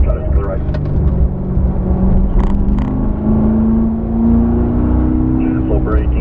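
A Corvette's engine drones steadily inside the car on a race track, with a rising whine as it accelerates, while a voice talks over the engine noise throughout.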